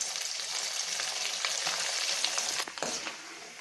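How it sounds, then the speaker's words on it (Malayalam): Small pieces of coconut frying in hot oil, heard up close as a dense, continuous crackling sizzle with brief bursts of spitting, and no voices. "തേങ്ങാക്കൊത്തും ചെറുതായിട്ടൊന്ന് പൊരിച്ചെടുക്കാം"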